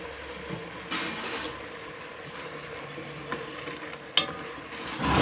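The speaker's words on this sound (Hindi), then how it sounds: "अब मैं इसमें ऐड कर रही हूँ टमाटर और हरी मिर्चें।" Tomatoes and green chillies go into meat frying in a pan for tinda gosht and get stirred. A steady sizzle runs throughout, with scraping stirs and a sharp clink of a utensil against the pot.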